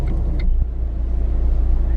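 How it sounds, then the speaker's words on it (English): Road traffic on a congested side street near LAX airport: a low, steady engine rumble from cars close by, with a couple of brief higher clicks early on and no clear speech. "LAX is nuts right now. Look at the traffic."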